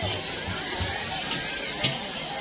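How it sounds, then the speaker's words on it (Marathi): A crowd of people chatters in a large newly built park in Thane, next to a children's play area. The murmur of many voices is steady throughout, with a few brief louder bumps and clatters. "आणि इथे तुम्ही बघू शकता खूप सारी गर्दी झालेली आहे"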